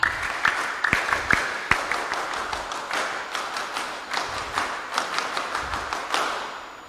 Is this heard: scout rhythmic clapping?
yes